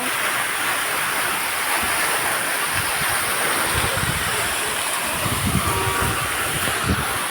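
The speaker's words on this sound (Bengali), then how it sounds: "ঝর্ণা" A waterfall at an arts complex in the late afternoon flows as a steady, broad rush of falling water. The noise stays even and continuous throughout, with some low wind-like rumble mixed in.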